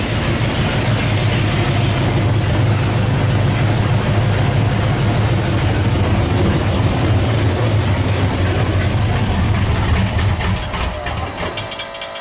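Heavy offroad wrecker truck engine idling nearby, a loud continuous low rumble that holds steady throughout and eases slightly in the final second; no one speaks.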